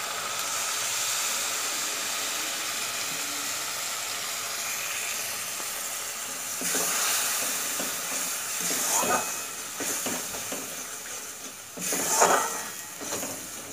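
Water left from soaking paneer poured into a pan of frying masala for matar paneer, giving a steady hiss and sizzle with a few louder bursts of bubbling and stirring toward the end.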